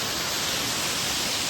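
Steady broadband rush of a small waterfall at a mountain forest recreation area in South Korea, a constant even roar with no pauses or voices.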